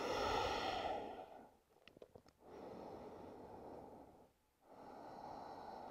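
Slow, deep breaths during an advanced vinyasa yoga session, with long airy inhales and exhales separated by brief pauses, close and clear with no talking.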